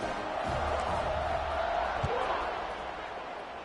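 A stadium crowd in the College Football 26 video game, at a Southern Miss game, keeps up a steady, broad roar of cheering behind a commentator's play-by-play voice.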